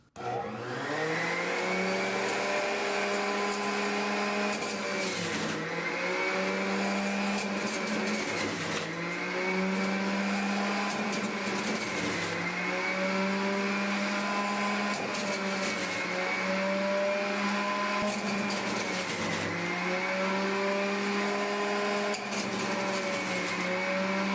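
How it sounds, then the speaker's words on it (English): Hamilton Beach Big Mouth juice extractor grinding quartered large oranges, a steady loud motor whine with shifting pitch as pieces are pushed through, running continuously with no talk. "Next, I'm going to be juicing 2 large oranges."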